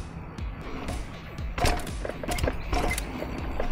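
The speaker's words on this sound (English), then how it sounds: "So it definitely feels like something's broken and rattling around inside of the fork." A damaged Suntour 38 Durolux suspension fork with something broken inside clunks and rattles as it is pumped, irregular hollow knocks and thuds, quiet and close, with a few sharper clacks midway.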